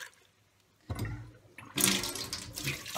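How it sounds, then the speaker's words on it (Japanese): Tap water rinsing shrimp in a kitchen sink, starting abruptly after a quiet moment, then a louder gushing splash as the stream hits, steady and close with no talk. "あとはさっと洗いましょう。"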